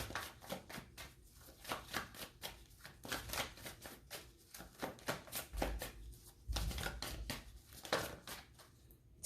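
Tarot cards are shuffled by hand in a steady run of crisp riffling bursts, close and fairly quiet, with no talking.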